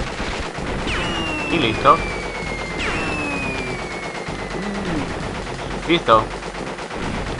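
Bursts of rapid gunfire in Crash Bandicoot: Warped, with a few sharp shots over a steady noisy backdrop, while someone speaks briefly.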